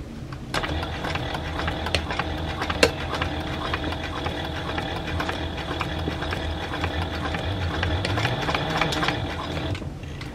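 A sewing machine stitches fabric for a dog snuffle mat, running with a steady, close mechanical whir and rapid needle clatter, with one sharp knock early on.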